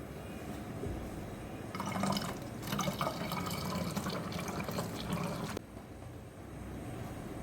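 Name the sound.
pouring bioenzyme liquid into soap nut cleaner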